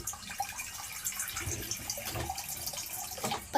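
Water runs steadily from a tap into a container, a continuous splashing, gurgling flow heard up close with no one talking.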